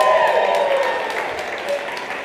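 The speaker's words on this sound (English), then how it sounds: "Let's give you a big round of applause." An audience at an indoor event claps in steady applause, dense and sustained, with a faint murmur of voices mixed in.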